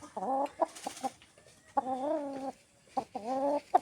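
An Indian game hen, a Bangkok and Brazilian cross, clucks and chatters in several short, rhythmic bursts with brief pauses between, close and fairly loud, with no talking.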